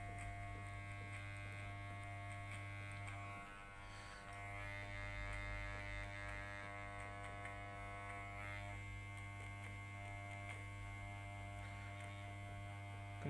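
Electric hair clippers run with the guard comb removed while fading a man's haircut, a steady close buzzing hum with slight shifts in tone as the blade works through hair.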